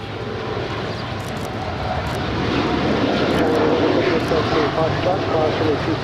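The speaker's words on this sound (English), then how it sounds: "25 right, Air Tahiti Nui, Flight 7, head to Papeete, 787-9 Dreamliner" A Boeing 787-9 Dreamliner of Air Tahiti Nui, bound for Papeete, rolls down runway 25 right at Los Angeles International Airport. A loud, steady engine roar swells gradually and holds, with people talking over it.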